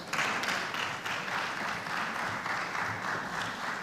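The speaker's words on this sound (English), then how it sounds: "A warm round of applause for Ehi Ehoche, Business Associate at Business Sweden" Conference attendees at Global Tech Africa 2024 give a warm round of applause for a Business Sweden associate. The clapping is steady and full, filling the hall for almost four seconds before easing slightly.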